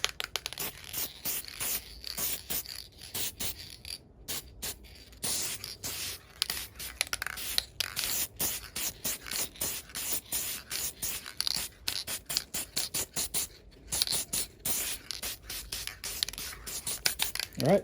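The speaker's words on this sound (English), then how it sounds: "So I'm going to go ahead and spray this adhesion promoter on this." Adhesion promoter sprayed from a can onto a car door panel, with many short, close hissing bursts in an uneven rhythm and brief quiet gaps between them.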